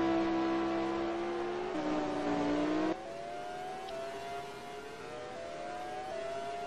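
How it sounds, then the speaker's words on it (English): Mercedes-powered race car engine in a racing video game at the Malaysian Grand Prix, loud and steady, its pitch climbing through several gear shifts as it pulls down the front straight, with no voices. "The Mercedes engine has a bit of pull down the front straight."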